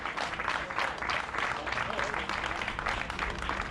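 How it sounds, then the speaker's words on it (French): A crowd at a karting endurance race podium applauds the GENSE Motorsport team in a steady, dense wash of clapping, fairly distant and even in level throughout, with voices mixed in. "Je vous demande d'applaudir très très fort."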